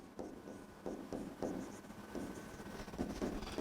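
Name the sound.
pen writing on paper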